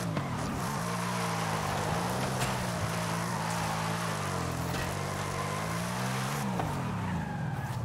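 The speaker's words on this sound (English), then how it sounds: "That was a really long e-brake grab." A car drifting under a long handbrake pull in Forza Horizon 5 holds a steady, droning engine note with tire squeal running beneath it, pitch wavering as the slide continues, then the revs rise and fall near the end.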